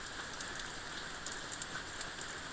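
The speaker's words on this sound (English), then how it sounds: "I guess it's supposed to rain until like 6 o'clock tonight." Rain falling steadily outdoors on a rainy day, a continuous even patter and hiss with scattered sharper drips, heard alone without any talking.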